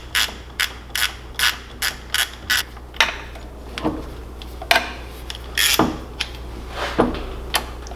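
A hand ratchet clicks in quick, regular bursts and then in slower, uneven strokes while drawing down fasteners on a 1954 South Bend Heavy 10L lathe, close and crisp against a low hum.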